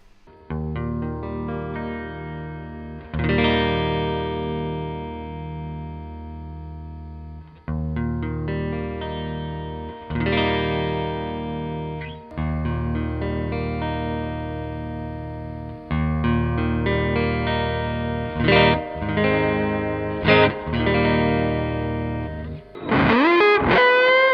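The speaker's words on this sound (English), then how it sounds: "This is what the guitar sounded like with some admittedly pretty old 10 gauge strings" Distorted electric guitar with old 10-gauge strings playing chords and riffs, with a few pauses between phrases, ending in a rising whammy-style swoop.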